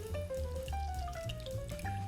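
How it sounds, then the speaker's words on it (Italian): Water trickles and drips as soaked gelatin is drained in a kitchen, a steady faint pouring with a tonal ring from the sink running throughout. "La gelatina è pronta, va scolata dall'acqua."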